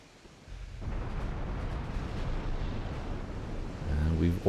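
Warship guns firing in the naval game Dreadnoughts, a deep rumbling roar of distant heavy gunfire that swells and holds, with a brief voice breaking in at the very end.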